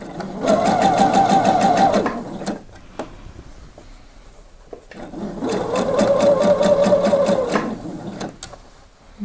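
A sewing machine stitches a blouse in two steady, loud runs of rapid needle hum, each lasting about two seconds, separated by a short pause with a few faint clicks.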